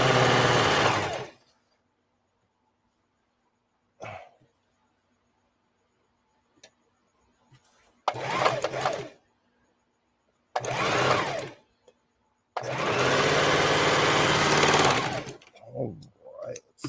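Sewing machine stitching fabric, running in several loud close bursts of a few seconds each, separated by quiet pauses with brief speech between runs.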